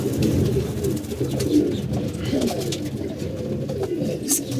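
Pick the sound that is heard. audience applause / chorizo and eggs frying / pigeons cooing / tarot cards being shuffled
pigeons cooing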